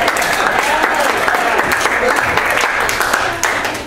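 Comedy club audience at a stand-up show bursts into sustained applause, dense and loud throughout, tapering slightly near the end.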